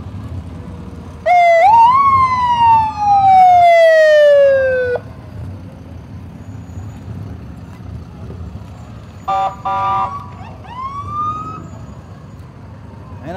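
A 2014 Pierce Arrow fire rescue engine in a July 4th parade sounds its siren in two loud rising-and-falling wails, then after a quieter rumbling pause gives a few shorter whoops and a brief rising yelp.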